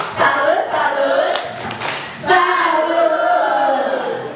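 A group of teachers performs the rhythmic 'tepuk salut' clap, with patterned hand claps mixed with loud group chanting throughout.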